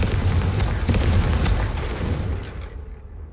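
A Confringo fire spell explosion in Hogwarts Legacy lands as a loud, booming blast that rumbles and crackles for a couple of seconds, then fades away with no voices.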